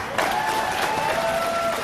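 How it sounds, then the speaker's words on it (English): Audience applause breaking out at a Connecticut gubernatorial debate, a steady, fairly loud wash of clapping from a crowd that starts abruptly and holds for nearly two seconds. "I just want to remind the audience to please hold your applause"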